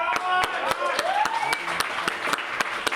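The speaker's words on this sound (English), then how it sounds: "Let's give him a round of applause." Applause and cheering rise from the crowd at a fight night event as a Libertarian state legislator is welcomed, dense clapping mixed with a crowd voice and some loud sharp claps close by, steady across the whole stretch.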